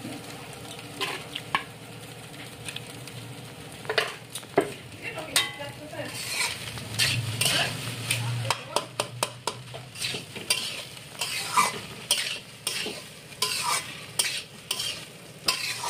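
Leftover rice mixed with potato and salt is stirred in a frying pan. A spatula scrapes and clinks against the pan in a steady, repeated rhythm over a light sizzle, close and clear, with no talking.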